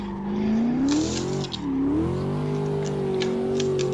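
A C6 Corvette coupe at a drift event on track, its engine revving loudly and continuously, pitch rising and dipping as the driver works through the gears, with a brief lift around the middle.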